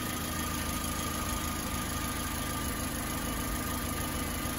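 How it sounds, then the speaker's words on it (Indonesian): A 2007 Suzuki X-Over idles in a workshop with the engine vibrating, a steady, even hum that holds unbroken and quiet throughout. "Itu mesinnya bergetar karena transmisi"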